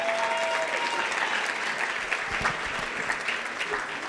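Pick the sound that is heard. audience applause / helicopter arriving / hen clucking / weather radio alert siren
audience applause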